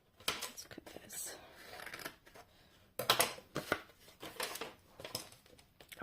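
Scissors snip through watercolor paper in short crisp bursts, a few separate cuts with rustling paper handling between them, close and fairly quiet.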